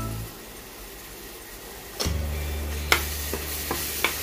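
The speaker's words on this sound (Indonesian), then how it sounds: "Kita tumis lagi sampai matang" Spices with kaffir lime leaves and galangal sauté in a hot pan, with a steady low sizzle and then a few sharp clinks and scrapes of a spatula stirring partway through.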